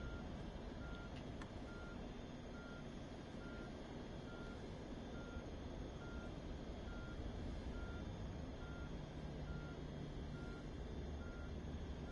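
A fuel truck backs up on an airport apron in Microsoft Flight Simulator, its reversing alarm beeping steadily at an even rhythm over a constant low engine rumble, with no talk.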